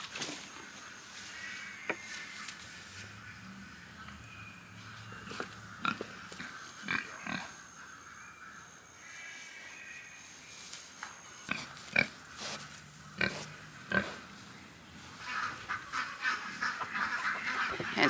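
Single pig on a small homestead, heard alongside ducks and geese in a farmyard: scattered grunts and honks at close to moderate distance, intermittent bursts over steady outdoor background, no talking.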